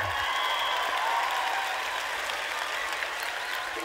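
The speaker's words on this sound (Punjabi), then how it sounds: "ਇਹ ਮੁੰਡੇ ਦੀ ਲਈ ਜ਼ੋਰਦਾਰ ਤਾਲੀ" Sustained crowd applause at the Punjabi International Film Awards, cheering a young man who has just been introduced on stage; a broad, even wash of many hands clapping throughout, with no talk.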